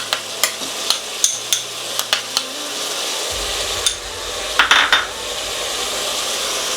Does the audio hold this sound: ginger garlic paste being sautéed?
yes